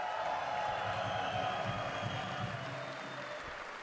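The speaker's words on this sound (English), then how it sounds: "Let's give Major League Soccer a round of applause today" Applause from a crowd celebrating Nashville joining Major League Soccer fills the space as steady, dense clapping that fades slightly toward the end.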